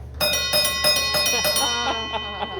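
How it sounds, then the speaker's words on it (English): A hand bell on a Custer chair rings out in a rapid series of bright metallic strikes that slowly fade, loud and near, with no voices over it. "ring that bell, and people would definitely hear you coming"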